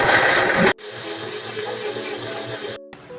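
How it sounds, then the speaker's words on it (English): Turmeric and water blended in a kitchen blender until smooth; a steady whirring motor drone runs for about two seconds after a brief louder burst, then cuts off. "Then blend it until smooth."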